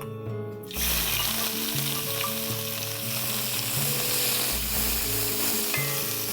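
Sliced onions hiss and sizzle in hot oil with star anise and bay leaves for a Durban mutton curry, a steady close frying crackle that bursts louder as they land in the pan, with occasional stirring.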